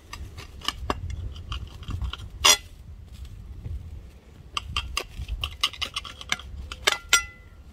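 A knife slicing through a chocolate-filled brioche on a plate, giving soft scattered clicks and scrapes of the blade against the plate, with quiet sharp taps spread across the cut.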